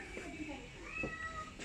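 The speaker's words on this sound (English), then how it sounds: "think there was a cat that was stuck in the rail up here." A cat meows from somewhere overhead, where it is stuck in a railing inside a house. Its high, wavering cries rise over room noise while a person talks nearby.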